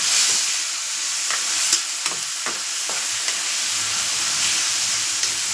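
Cucumber and dried fish curry stirred in a pan with salt and chili: a continuous close hiss of frying and steam, broken by several scraping strokes of the spoon, with no speech.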